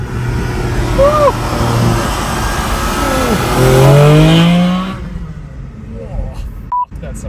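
A Porsche GT4 engine revs and climbs in pitch as the car accelerates past, loud at first and then receding, with voices talking over it outdoors.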